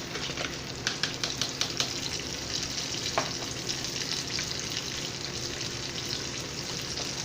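Battered fish, double-dipped in egg and coating, sizzles and crackles steadily in hot oil for soul-food frying, with a dense, continuous hiss and scattered sharper pops throughout.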